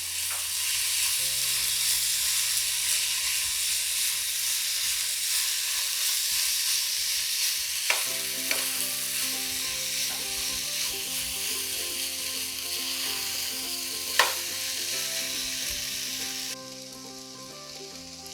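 Fried vegetable quinoa with mint and cilantro being gently stirred in a pan gives a steady, bright sizzle and hiss, with a few sharp clinks of the spoon against the pan and the sizzle dropping slightly near the end.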